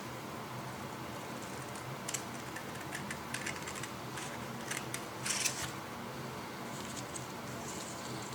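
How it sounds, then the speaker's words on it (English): Scissors snip through a sheet of paper while a paper lantern is being made, a few quiet crisp clipping sounds scattered over a faint steady background hiss. "I will just take my scissors now and I will just cut through this"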